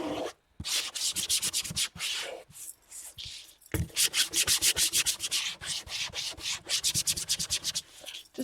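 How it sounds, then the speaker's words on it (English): A small sanding block rubbed back and forth over a shiny junk journal cover, producing close, rhythmic scratchy strokes in quick runs with short pauses between them. "I've got my little sanding block."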